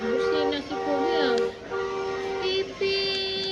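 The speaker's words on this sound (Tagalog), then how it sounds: "Oh, busina si Kuya." A man sounds a vehicle horn in several sustained, steady blasts, loud and close, with voices and a rising, bending, singsong voice-like tone woven among them.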